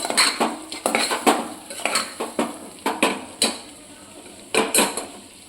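A spoon scrapes and knocks against a metal pot while a guar bean and potato curry with salt and garam masala is mixed, giving irregular clanks and a faint sizzle underneath.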